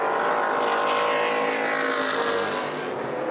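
Late model sportsman race cars run single file around the oval at Lucas Oil Raceway in Indianapolis, engines roaring loudly and continuously with a rising, sweeping pitch as they pass close by.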